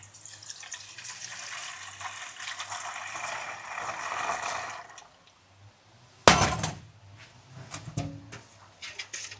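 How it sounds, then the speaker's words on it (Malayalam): Cooled boiled water splashes and trickles steadily into a jar of brindle berries for wine for several seconds, then a sharp glassy knock rings out, followed by quieter clinks and small pours. "രണ്ട് കപ്പ് വെള്ളം തിളപ്പിച്ച് അത് ചൂടാറിയിട്ടുള്ള വെള്ളം നമുക്ക് ഇതിലേക്ക് ഒഴിക്കാം"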